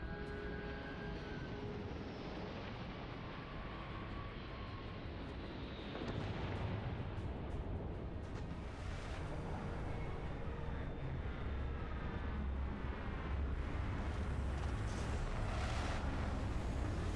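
Large Sword of Cheyenne Class C battlecruiser in Starfield flying in, a loud sustained roaring engine rumble that swells and grows fuller partway through, with no talking.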